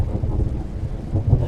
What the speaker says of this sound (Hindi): बारिश थोड़ी कम हो रही है।